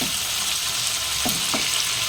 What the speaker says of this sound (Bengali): এবারে চিংড়ি মাছগুলোকে হালকা করে ভেজে নেবো।